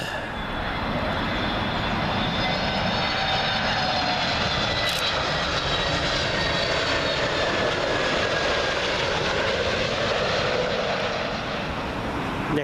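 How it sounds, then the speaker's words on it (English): A TAP Airbus A321neo jet arriving at Heathrow from Lisbon passes close with a loud, sustained engine roar and faint whining tones sliding across it, steady throughout with no talking. "Up next, TAP A321neo."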